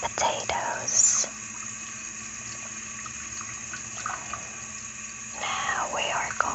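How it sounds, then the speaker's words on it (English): Idaho potatoes rinsed under a running tap: a steady stream of water flows for several seconds in the middle, framed by soft whispering at the start and end. "Now we are going to rinse them all thoroughly to make sure there's no leftover soil or dirt."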